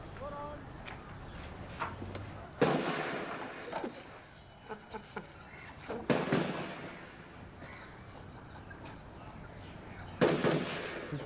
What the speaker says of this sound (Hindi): फायरिंग रेंज है, रोज होता है बंदूक।